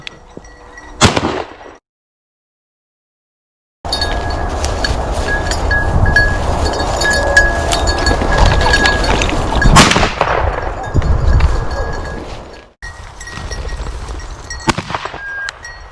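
Shotgun blasts ring out during a pheasant hunt in open country, a sharp report early on followed by a long stretch of loud rumbling, clattering field noise with another strong burst midway, no clear speech.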